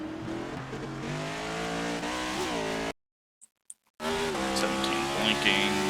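NASCAR stock cars race at Sonoma in iRacing, engines droning loud and steady with rising pitch sweeps as one car revs hard and spins, broken by a second of near-silence before the roar returns, with tire noise.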